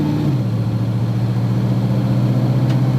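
Vehicle with a 2004R automatic transmission accelerating at quarter throttle, a steady engine hum whose pitch drops early as the gearbox upshifts, then holds steady and loud.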